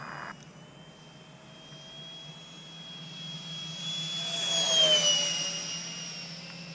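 A Freewing F-105 Thunderchief 64mm EDF radio-controlled jet makes a fly-by, its ducted-fan whine building steadily to a loud peak near the middle and then easing away, with no talking.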